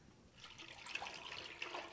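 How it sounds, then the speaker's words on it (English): Warm liquid bread mixture is poured into a bread pan, making a faint, brief splashing trickle that swells slightly midway and fades again, with no talking over it. "And go ahead and pour that into your flour pan."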